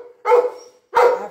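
A dog at a rescue kennel gives two loud, close barks, each a single sharp bark separated by a short pause.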